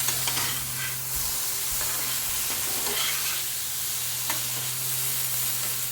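Ridge gourd stir-fried in a little oil, a steady soft sizzle and hiss with occasional stirring scrapes, close and continuous with no talk over it.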